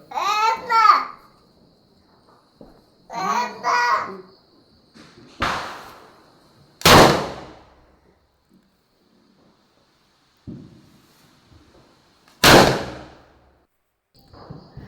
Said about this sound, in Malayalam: പടക്കം പൊട്ടുന്ന സംഭവങ്ങളൊക്കെ ആദ്യമൊക്കെ നല്ല പേടിയാട്ടോ